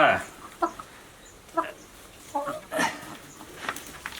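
Six hens in a new backyard laying coop built from old corrugated zinc give short, scattered clucks and calls, close by and spaced apart over a quiet background.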